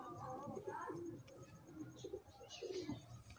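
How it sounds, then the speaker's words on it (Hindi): Low, throaty coos from Teddy pigeons repeat in short rolling phrases, close and fairly soft, with a faint chirp or two in the background. "ये बड़े लाजवाब कबूतर हैं"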